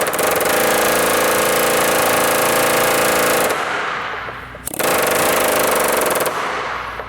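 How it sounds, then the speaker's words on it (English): An air hammer rattles against a bolt on a truck in loud, rapid, close bursts. A long run of hammering stops, a short quiet pause follows, and then a second run begins. "Guess we're just gonna have to turn it the rest of the way with the air hammer."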